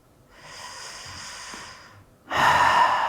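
Slow, deep breathing during a lower-back yoga stretch, one long airy inhale followed after a brief pause by a louder, rushing exhale, close and alone.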